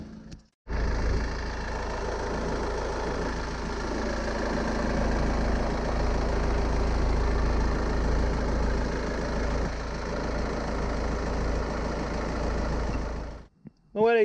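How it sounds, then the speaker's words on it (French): A car engine with 260,000 km on it idles with its compartment open, a steady, close, low rumble that holds evenly for over ten seconds before cutting off abruptly near the end. "je vais vous faire écouter le moteur vite fait"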